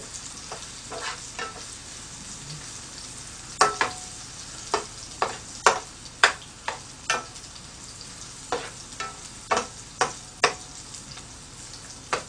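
Korean meat patties (donggeurangttaeng) sizzle in a pan for Chuseok, a steady frying hiss punctuated by repeated crackling pops and stirring sounds, close and with no voices.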